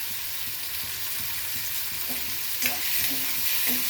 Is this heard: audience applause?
no